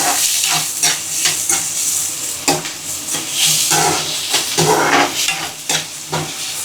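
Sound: onions and green chillies frying in a pan for gac fruit curry

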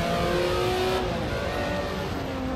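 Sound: racing car engine revving in a racing video game

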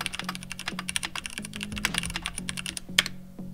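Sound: typing on a mechanical keyboard with linear red switches

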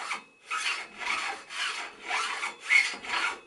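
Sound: seat post sliding up and down inside bicycle seat tube

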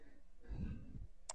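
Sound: computer mouse click in Adobe Premiere

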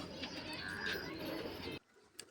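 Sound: pigeon cooing

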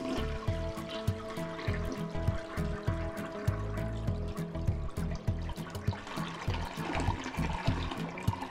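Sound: toilet flushing in the video game Unpacking

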